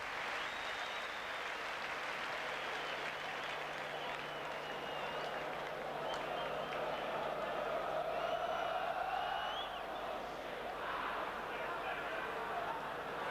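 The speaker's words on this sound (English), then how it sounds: "And that's what the crowd think about that one." Football crowd at a 1989-90 Leeds United versus Middlesbrough match roaring and applauding in a steady, dense wash of noise, with a commentator's voice heard faintly under it.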